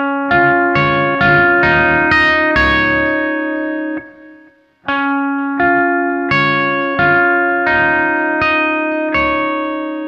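An electric guitar run through effects such as distortion and chorus plays the riff, bright picked notes ringing in a quick repeating pattern, with a brief pause partway through before the riff starts again, loud and alone.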